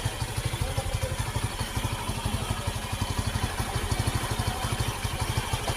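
An Easyride 150N motorcycle engine, with a dirty stock air filter, idles steadily and close, holding an even, rapid putter with a light mechanical clatter throughout.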